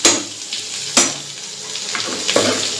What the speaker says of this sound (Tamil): மஞ்சத்தூள் சேர்த்து நல்லா கிளறிக்கலாம்